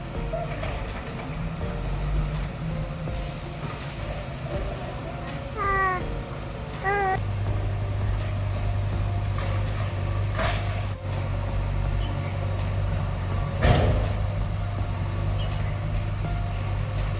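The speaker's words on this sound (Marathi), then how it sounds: "निघाला निघाला निघाला बघ बघ निघाला डंपर निघाला" A stuck dumper truck finally pulls out, and its low engine rumble grows steady and louder partway through. A cat meows a few times in the background, with other outdoor noise around it.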